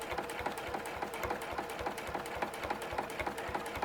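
A sewing machine stitches small, tight quilting lines on a clamshell quilt, its rapid needle strokes forming an even, fast mechanical chatter with steady rhythmic pulses throughout, fairly close and without any talk.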